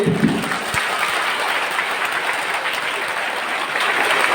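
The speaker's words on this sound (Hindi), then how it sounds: "सभी आशीषों के लिए एक बार जोर से ताली बजाकर प्रभु को धन्यवाद देंगे।" A church congregation claps loudly in thanks to the Lord, a continuous, dense roar of hands that stays strong and even throughout.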